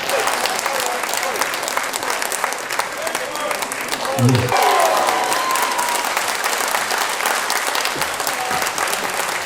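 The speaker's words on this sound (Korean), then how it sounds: "골목길 정원 합창단에 다시 한번 박수 부탁드리겠습니다" An audience gives sustained, dense applause for the Golgokgil Garden Choir at an education forum in Gyeongbuk, loud and continuous from start to finish, with a brief low murmur and a faint tone surfacing midway.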